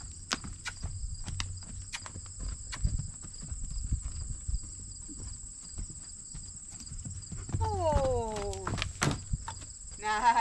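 Horse hoofbeats at a canter, soft rhythmic thuds on the ground at middle distance under steady insect and cricket chirring, with a brief whinny-like sound near the end.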